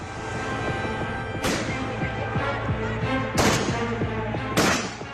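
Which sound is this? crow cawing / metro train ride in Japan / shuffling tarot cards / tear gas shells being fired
tear gas shells being fired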